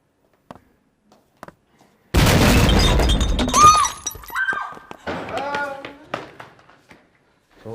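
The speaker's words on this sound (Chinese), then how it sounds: "老师做实验，不知道加了什么东西，砰的一下就炸了" A classroom chemistry experiment explodes with a sudden loud blast after near silence, followed by shattering and clattering debris, then frightened voices and shouting.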